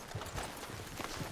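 Horse hooves from Red Dead Redemption 2, clip-clopping in a steady, fairly close rhythm as riders move along a wooded path, with no talking.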